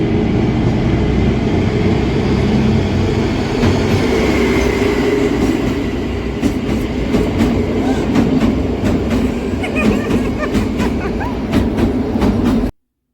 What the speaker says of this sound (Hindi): और इसमें ट्रेन को जाने के लिए भी इतना समय लगा।